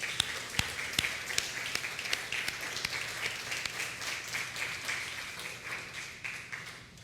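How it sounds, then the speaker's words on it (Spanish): Sunday morning church congregation clapping for the Lord, a steady wash of applause with a few sharp individual claps standing out, moderately faint and slowly tapering toward the end. "Denle un aplauso al Señor esta mañana."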